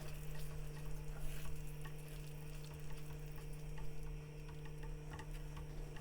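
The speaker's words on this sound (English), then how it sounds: "Stir through and simmer for around 5 minutes." Mango chilli chicken curry in the British Indian restaurant style simmers in a pan, a quiet continuous sizzle and bubbling with a few soft ticks of stirring.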